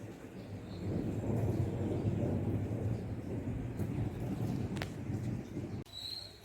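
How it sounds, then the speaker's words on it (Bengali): Thunder rolls in a long, low, fairly distant rumble over a rain-soaked street, swelling for several seconds before cutting off abruptly. "এখনো মেঘ, দেখো মেঘ ডাকছে।"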